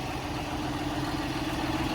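A tractor engine idles steadily, a continuous low mechanical drone with a faint tonal hum, close and unbroken, during sugar beet hoeing on a farm.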